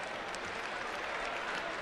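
Lively sellout baseball stadium crowd cheering and applauding, a dense steady wash of clapping and crowd noise, moderately distant, with no clear talk on top.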